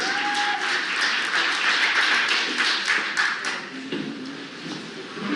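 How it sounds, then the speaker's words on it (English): A crowd at a fundraiser held at Rubi Agave applauds, a dense, steady round of clapping that holds for several seconds and then thins out slightly toward the end, with no talk over it. "Can I get a round of applause?"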